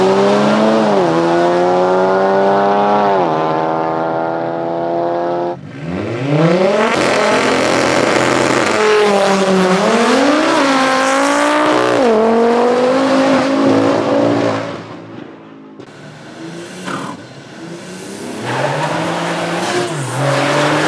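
A car at a track run spins its tires and loses grip, the engine revving hard in loud rising and falling sweeps, easing off briefly near the end before picking up again.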